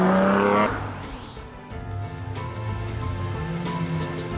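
A McLaren F1 GTR race car engine roars loud and close, its pitch dropping sharply at a gear change, then building steadily again with a rising drone as the car accelerates, no talk.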